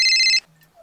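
A phone ringtone plays on an outgoing call, a loud, steady electronic tone for under half a second that then cuts off, leaving faint low hum and a brief soft tone afterward.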